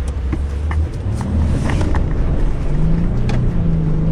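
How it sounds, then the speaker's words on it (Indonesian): A car accelerates hard from a green light, heard from inside the cabin as a steady engine roar that swells louder and rises in pitch, with a constant low rumble underneath. "Pak Rindra langsung nih kita ngegas"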